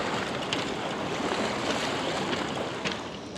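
Turbulent river water rushes in a dense, continuous roar with splashy bursts, loud and close, easing slightly at the end with no voices.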